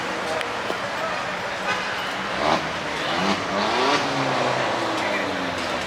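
Cars moving around at a busy outdoor car show in the Miami Design District, a steady traffic and engine rumble with a few louder passes and a horn-like toot, under crowd chatter and voices nearby.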